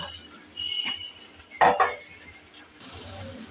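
Chopped potato and pointed gourd tipped into a cooking pan for a village-style puti fish dish, heard as a short clattering thud with a light scrape of utensils against the pan over quiet background.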